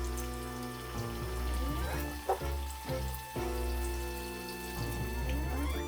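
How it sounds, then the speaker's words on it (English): Pizza fritta dough fries in hot oil with a quiet, steady sizzle and crackle, faint and continuous with occasional small pops. "dough is frying up too fast, too quickly, it's getting brown too quickly"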